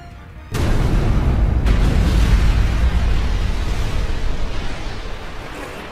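A sudden loud anime explosion blast hits after a moment of quiet, then a long rumbling roar that slowly fades over several seconds.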